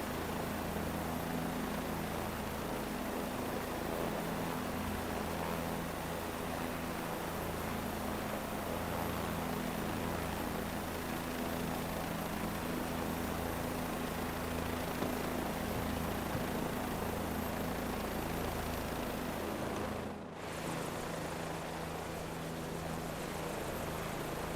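A helicopter in Microsoft Flight Simulator 2024 gives a steady, loud engine and rotor drone with constant hum throughout, briefly dipping once near the end.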